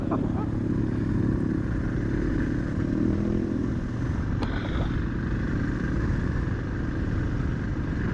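A motorcycle ridden slowly along a fog-covered mountain road on a long motocamping trip, its engine droning steadily up close with constant wind rush throughout.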